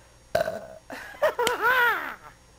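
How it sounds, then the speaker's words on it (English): After drinking coffee, a person lets out several loud, close belches in quick succession, ending in a long drawn-out croaking burp. "this coffee is just making me belch"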